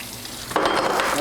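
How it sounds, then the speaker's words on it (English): Tap water starts running about halfway in, splashing steadily over glass homebrew beer bottles being rinsed at a sink, a close, continuous hiss with no talking. "I'm going to go ahead and rinse these off"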